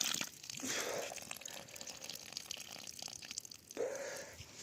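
Water dripping and trickling from a poorly glued joint in a drip irrigation line, a faint, close, irregular splatter with soft spurts near the start and end.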